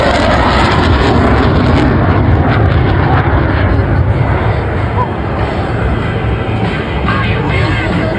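A Typhoon fighter jet roars past at high speed during the Blackpool airshow, a loud, continuous, rushing engine blast filling the whole stretch, with a commentator's voice faintly mixed in.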